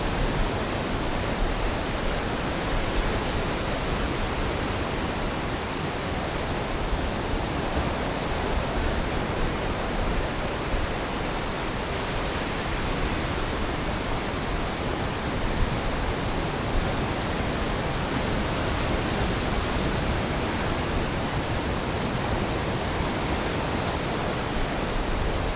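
Ocean surf on Trinidad's North Coast roars in a continuous, even wash of noise, with no distinct breaks between waves and no one speaking.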